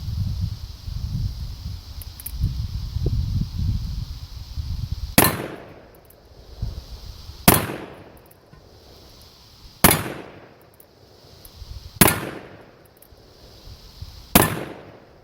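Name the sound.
Colt Single Action Army revolver firing a shot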